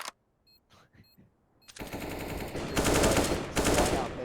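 Gunfire in a competitive first-person shooter match, AK or sniper, starting with a few sparse cracks and then rising into a loud, dense burst of rapid automatic shots.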